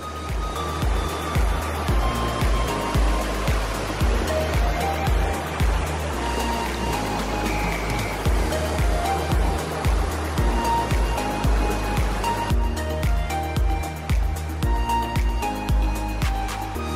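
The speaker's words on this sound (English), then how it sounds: "you hear the constant flow of water everywhere where you are" Water in Mae Kampong village flowing constantly in a steady, moderate rush, with faint intermittent clicks and knocks over it and no talk.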